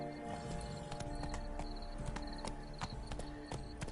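Unicorn hooves in The Witcher 3: Blood and Wine, a steady run of hoof clip-clops over a dense game soundscape with music tones, continuous and moderately loud.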